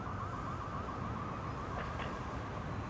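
Faint, distant sirens wail with a warbling tone over low background rumble, continuous throughout.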